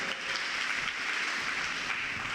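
A congregation at a church service claps together in a dense, even wash of applause that holds steady throughout at a moderate distance.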